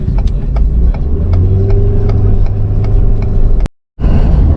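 Car driving along a country road, its engine humming steadily and close inside the cabin, with a brief drop to silence near the end.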